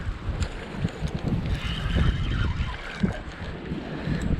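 Strong wind at a riverside fishing spot buffets the microphone in low rushing gusts, with faint water movement beneath, steady and close for a few seconds, no one speaking.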